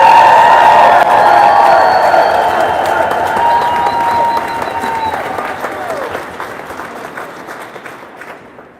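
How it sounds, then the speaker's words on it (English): A crowd at a Ukraine solidarity rally gives loud applause with cheering and whoops, strongest at the start and gradually tapering off over several seconds. "Let's give another round of applause for Taras."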